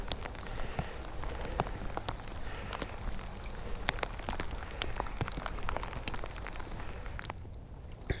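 Steady rain pattering on surfaces around a campsite, with scattered heavier drips and taps over a constant wash, continuous and fairly close.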